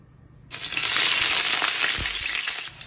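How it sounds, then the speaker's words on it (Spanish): Oil hits a hot frying pan for mole verde with a sudden loud crackling sizzle that holds steady for about two seconds, then drops away. "Vamos a agregar aceite aquí en el sartén"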